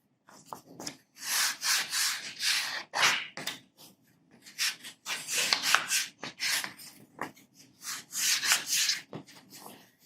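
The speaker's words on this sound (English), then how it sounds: "Just a light, very light sanding on those corners, just to break those down just a tiny bit." Light hand sanding of book cover corners and edges with sandpaper, a series of short raspy scrubbing strokes in quick bursts with brief pauses, close and fairly quiet.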